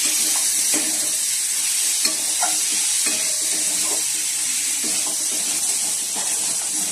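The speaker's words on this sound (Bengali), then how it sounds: "তা মশলাটা ভালো করে কষে নিচ্ছি। আদা রসুন পেঁয়াজ জিরে গুঁড়ো ধনে গুঁড়ো এগুলো মশলা।" Spice paste of ginger, garlic, onion, cumin and coriander powder being stir-fried, with close repeated scraping stirs over a constant hiss of frying and no voices.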